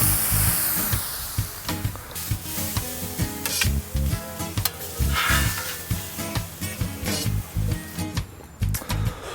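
Venison backstrap and vegetables sizzling on an outdoor grill, a loud continuous hiss with rhythmic scraping and tapping pulses over it, close and bright.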